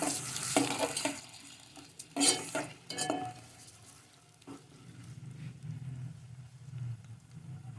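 Chopped onions dropped into hot cooking oil in a pan, a soft crackling sizzle with a couple of louder clatters and stirring scrapes, fairly quiet and close, no talk.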